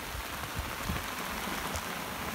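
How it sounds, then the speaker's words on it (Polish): Heavy autumn rain drums steadily on an umbrella during a carp fishing session at a lakeside, a dense continuous patter with no voices. "Ogólnie to tak deszcz mocno uderzał w parasol"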